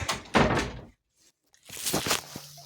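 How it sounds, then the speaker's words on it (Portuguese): A car door thunks shut in a Portuguese-speaking setting, a single solid slam between stretches of talking, followed by a brief short tone like a lock chirp. "Travei a porta do carro."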